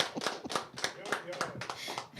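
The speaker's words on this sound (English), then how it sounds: "Let's give her a clap offering." Hand clapping from a church congregation at a Sunday service, dense and sustained with sharp irregular claps, some voices audible underneath.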